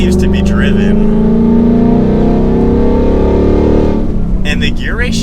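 A 2021-2022 Ford Mustang Mach 1 Premium's V8 engine revs and accelerates loudly on the road for about four seconds, then the sound eases off as the next gear is selected.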